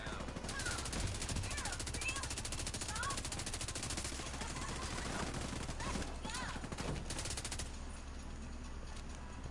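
Bursts of rapid automatic gunfire and scattered shots from a firefight in The Division 2, with near and distant volleys running steadily under excited voices.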